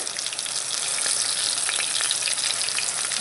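Chicken pieces frying in a pan, a loud, continuous close sizzle with crackling pops throughout.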